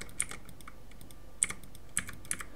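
DNS numbers are typed on a computer keyboard, with crisp, close keystrokes in irregular clusters and short pauses between them.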